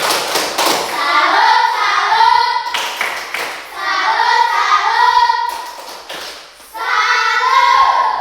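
In an Indonesian classroom lesson, children chant the rhythmic tepuk salut clapping routine in three sung phrases, their voices loud and close, with clapping beats punctuating the start of each phrase.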